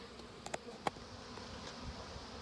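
Low, steady buzzing of bees fills the background, with a few faint clicks and taps over it; no voices.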